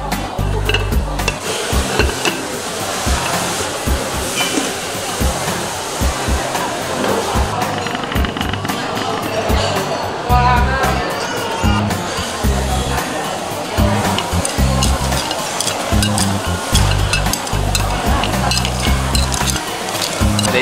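Shrimp tossed onto extremely hot stones in a clay pot for a stone-cooked shrimp dish in Taiwan give a loud, steady hissing sizzle with sharp crackles and clatters throughout, while voices murmur underneath.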